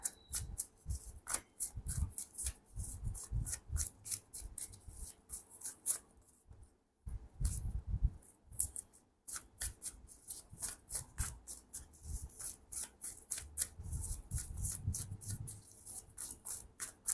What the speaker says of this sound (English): I was just so busy in doing the shuffling